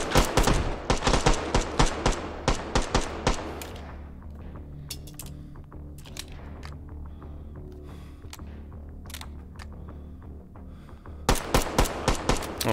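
Rapid bursts of gunfire from a weapon in the VR shooter H3VR crack close by in quick volleys, give way to scattered lighter shots and clinks, then erupt again in another fast string of shots.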